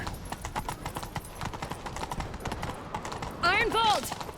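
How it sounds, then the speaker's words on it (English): Rhythmic horse hoofbeats galloping during a chase in The Witcher 3, steady clip-clop throughout with a brief horse whinny near the end, mixed with game sound effects. "Grab a horse, we'll chase him down."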